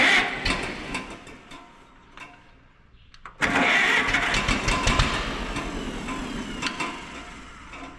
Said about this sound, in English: Now, I don't know if that's supposed to be a high torque starter.